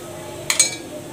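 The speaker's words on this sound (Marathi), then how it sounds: "आता याच्यावर आपल्याला झाकून देऊया." A lid set over dhokla batter in a kitchen, two quick light metallic clinks close together, clear and near against a quiet background.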